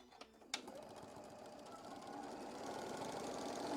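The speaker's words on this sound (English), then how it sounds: "And sew those all down." A sewing machine stitches down quilt block seams, its rapid mechanical chatter building steadily louder after a couple of sharp clicks at the start.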